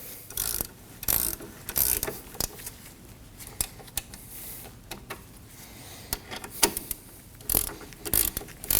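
A ratchet snugs down the brake caliper bolts on a 2003-2006 Subaru Baja, giving quick bursts of sharp clicking pawl strokes with short pauses in between, close up and with no talk.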